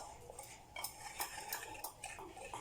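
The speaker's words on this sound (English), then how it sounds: "Now I'm just going to give this a little whisk to bring everything together, the flour, the coconut, the sugar" A whisk beats flour, coconut and sugar in a bowl for an eggless semolina coconut cake, making quick, rhythmic scraping clicks against the bowl, faint but close, with no voices.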